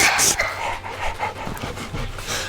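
A dog pants close to the mic in quick, breathy rhythmic huffs, partly under people talking.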